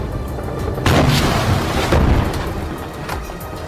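Building blown up in wartime combat footage from the Israel–Hamas fighting in Gaza: two heavy booming blasts about a second apart over a continuous loud rumble, with no speech.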